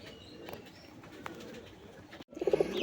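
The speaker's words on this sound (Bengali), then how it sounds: "বন্ধুরা এখানে একজোড়া রাসগোল্লা কবুতর আছে" A pair of cream-coloured Rasgolla pigeons coos close by with soft, low throaty calls over faint background noise, ending in a short run of louder rhythmic coos.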